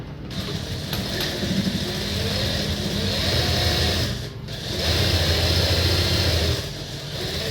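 Sewing machine stitching a churidar: two sustained runs of fast mechanical whirring and needle clatter, separated by a brief pause, close and alone.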